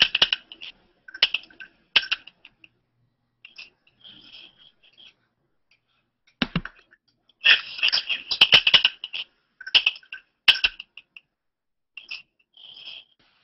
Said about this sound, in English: I'm hearing someone typing, for example.